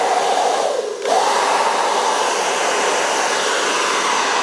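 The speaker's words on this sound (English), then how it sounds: "we're going to use our hair dryer here, and we're just gonna turn on low to start with" A hair dryer set on low blows crumbs out of a toaster, a steady, loud, continuous whoosh with a brief dip near the start before the airflow settles back to an even roar.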